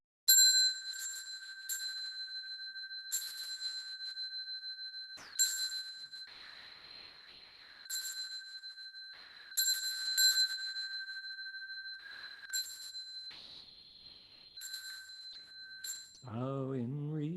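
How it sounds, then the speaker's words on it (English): A small bell in a Buddhist monastery hall rung repeatedly with clear, ringing strikes in irregular clusters, each tone sustaining briefly. A low voice begins chanting at the end. "Got a bell here."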